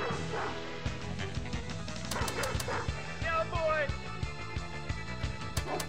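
A dog barks and yips on a Pinball FX3 video game table, several short bright barks over busy music, ball rolls and flipper clicks, with a voice talking at times.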